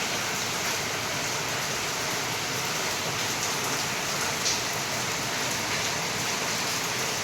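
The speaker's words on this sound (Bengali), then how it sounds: "পুরো মুষলধারে বৃষ্টি হচ্ছে" Heavy monsoon-style rain beats down in an unbroken, loud roar of countless drops striking surfaces, constant throughout with no voices over it.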